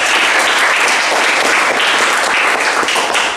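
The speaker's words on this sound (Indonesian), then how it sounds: "Ya, tepuk tangan" Students in a classroom applaud steadily, dense overlapping claps sustained at full loudness for a few seconds without any talking.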